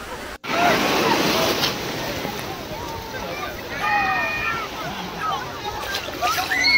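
Sea waves wash ashore at Wangsan beach on Yongyudo island, a steady broadband rush of surf with gusts of wind, while people talk and children's voices rise over it.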